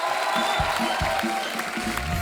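Studio audience on The Kapil Sharma Show applauding a guest's entrance on stage, a steady wash of clapping from a crowd over light background music, with no talk.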